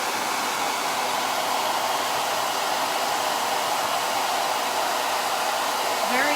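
A hair dryer blows steadily and loudly at close range, drying wet paste off a cleaned surface, with a continuous even airflow roar that holds for the whole stretch and has no talk over it.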